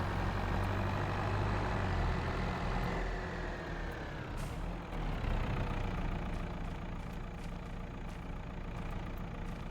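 Truck engine rumbling steadily while reversing a trailer in Farming Simulator, with a brief air-brake hiss midway and a constant low drone throughout, no voices.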